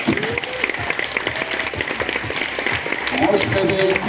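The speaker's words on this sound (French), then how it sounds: "avec les applaudissements du public et le chiffre 3, vous vous réveillez libre de toute hypnose" An audience at a hypnosis stage show breaks into loud, dense applause, with a voice and tonal sounds rising over the clapping toward the end.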